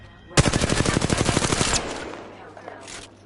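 Rapid automatic gunfire with recoil in a first-person shooter video game, a steady burst of about fourteen loud shots lasting just over a second, followed by a fading tail and faint background game sounds.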